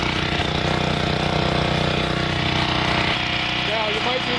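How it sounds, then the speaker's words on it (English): A common portable generator engine running rough and sputtering as it warms up with the choke still partly on, loud, continuous and uneven, with a voice talking over it. "Now you'll start to hear the engine sputter a little bit."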